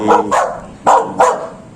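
Pet dogs on a family farm bark in four sharp, close, loud barks spaced in two pairs, with no voices over them.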